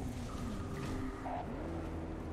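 A Jaguar car in Cyberpunk 2077 drives off, its engine giving a short, rising growl with a brief whine, heard close and alone.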